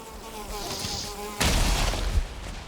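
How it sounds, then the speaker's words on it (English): Mosquitoes in the survival game Valheim give a steady, close insect whine that keeps going throughout. Partway in, a louder broadband rush joins it. "Oh, frick off, mosquitoes."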